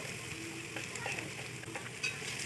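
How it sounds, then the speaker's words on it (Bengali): Garlic, ginger paste and turmeric and chili powders fry in a pan for a cock chicken dish, a soft steady sizzle with faint scraping stirs, quiet and without speech. "রসুনটাকে একটু ভালো করে নেড়ে ছেড়ে নেব যাতে কাঁচা গন্ধটা না থাকে তারপর দিয়ে দিচ্ছি আদা বাটা"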